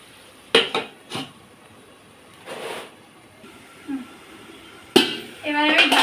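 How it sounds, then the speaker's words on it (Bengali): A metal lid is set on a cooking pot of fish chorchori with a few sharp clanks and rattles, spaced out and separated by quieter stretches, ending in a longer ringing clatter. "দিয়ে আবার একটু ঢাকা দিয়ে দেব।"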